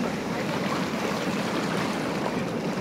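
Sea waves wash steadily onto a beach at night, a continuous broad rushing surge, close and loud with no clear breaks.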